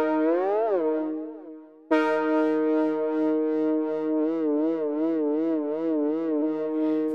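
An Arturia MicroLab keyboard holds a synth tone while its touch strips bend the pitch and add modulation, so the sustained note glides, drops out briefly, then returns with a steady warbling vibrato.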